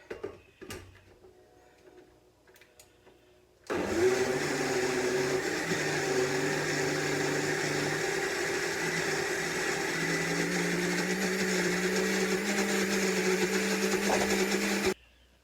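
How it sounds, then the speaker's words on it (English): Kitchen blender whirring steadily for about eleven seconds after quieter handling noises, the motor's hum loud and close with a slight shift in pitch partway through. "Just have to have enough to make the blender work."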